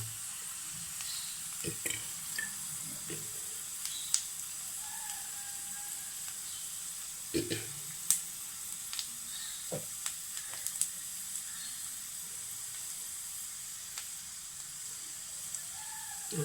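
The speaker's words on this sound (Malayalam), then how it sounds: "നന്നായിട്ടൊന്ന് മുരിഞ്ഞോട്ടെ ഉള്ളി" Onions frying in a pan for a Kerala onion theeyal, a steady soft sizzle running throughout with a few clinks and stirring scrapes scattered over it.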